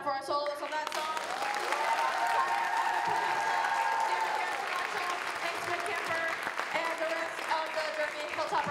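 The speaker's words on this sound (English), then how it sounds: "Round of applause one more time for our soloists on that song." At a school spring jazz concert, an audience applauds the soloists with dense, steady clapping and a few cheers, while a speaker's amplified voice talks over the start.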